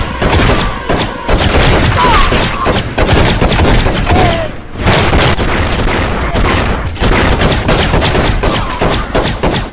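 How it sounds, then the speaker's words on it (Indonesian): Sustained, intense gunfire from an action film shootout, dense overlapping shots and bursts filling the whole stretch with loud, continuous crackling and booms, and a voice briefly audible underneath. "Terjadi aksi tembak-tembakan yang sangat sengit sebelum akhirnya polisi datang"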